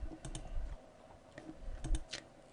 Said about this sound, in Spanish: meto texto y le doy enter